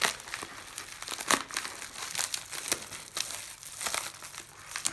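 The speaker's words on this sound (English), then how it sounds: "so we'll just cut it up here and hopefully not damage anything inside" Cardboard and plastic wrapping crinkle and tear as a shipping package holding silver and gold coins is cut open, a rapid series of sharp crackles and rips close to the microphone without speech.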